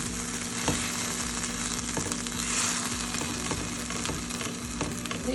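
Pork chops fry in a little oil in a pan, a continuous close sizzle and crackle with occasional soft knocks from the pan, no talking.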